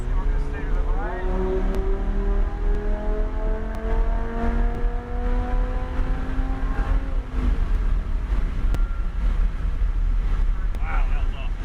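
Supercar engine revving loudly on a race track, rising in pitch through several gear changes before the note drops away, with heavy wind buffeting over the microphone and voices talking underneath.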